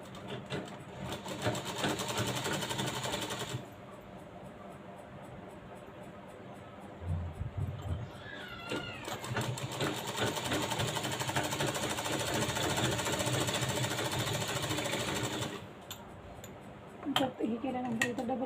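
A sewing machine stitches a cross strip onto fabric in long, close, rapid whirring runs broken by short pauses with clicks and handling noise, while a voice speaks faintly in the background.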